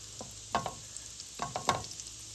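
Johnny cakes frying in a pan, soft sizzling with a few quiet scrapes and stirring clicks from a spatula, close but faint and without talking.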